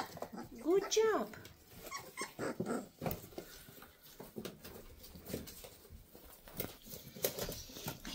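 Weimaraner puppies whimper and whine in short, high bursts, loudest near the start, over a busy background of small yips, shuffling and movement, with a person talking to them throughout.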